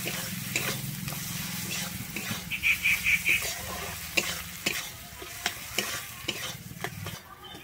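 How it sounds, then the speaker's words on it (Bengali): Tomatoes and spices with turmeric sautéed in a pan for a yellow peas curry with mutton fat, a steady sizzle under repeated scraping stirs close by, with no talking. "আর দিচ্ছি হলুদ দিয়ে আমি আবারও ভালোভাবে এখানে কষিয়ে নিচ্ছি"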